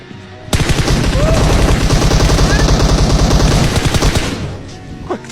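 Loud, rapid automatic gunfire in PUBG rattles continuously for about four seconds, then stops abruptly, followed by a faint ringing tail.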